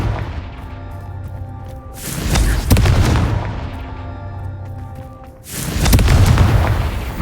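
Two heavy booming blasts from the Confringo fire spell in Hogwarts Legacy, each a sudden loud burst that rumbles and fades over a couple of seconds, spaced roughly three and a half seconds apart over a steady game ambience.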